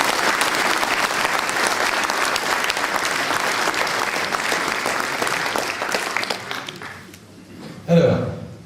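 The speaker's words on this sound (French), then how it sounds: "merci de les applaudir" A ceremony audience at a 2024 New Year's wishes event in the town of Veigné applauds loudly and steadily, the dense clapping fading away near the end before a brief voice or noise.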